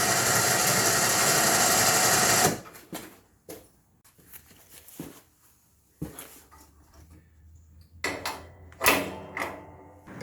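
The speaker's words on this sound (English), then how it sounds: "we're going to hook up the winch cable to the plow, and then we're going to raise it up" An ATV winch whines steadily and loudly for a couple of seconds as it raises a Kolpin 70-inch steel snow plow, then stops, leaving quiet clanks and scattered handling noises.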